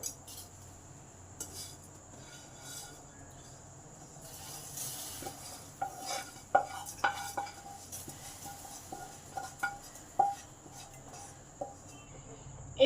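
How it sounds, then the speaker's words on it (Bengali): Fried vermicelli is stirred into boiling milk in a pan, with scattered metal spoon scrapes and clinks against the pan over a quiet bubbling background, growing more frequent in the second half. "এবার এই ভাজা সিমইগুলো এই দুধে দিয়ে দিলাম।"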